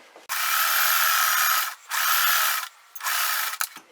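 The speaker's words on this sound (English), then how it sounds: "Now I'm just going to top stitch right along here." A sewing machine top stitches across a quilt block in three loud, continuous bursts of fast mechanical whirring, separated by short pauses, with no talking.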